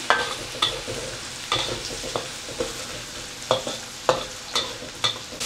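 Dried shrimp frying in a pan, loud close sizzling with regular sharp scrapes and clinks of a spatula stirring every second or so, no voices.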